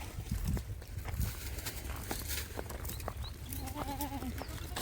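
A large flock of sheep and goats driven along a road toward Gir from Kutch bleats intermittently over a constant background of shuffling hooves and outdoor noise, with a clear wavering bleat near the end.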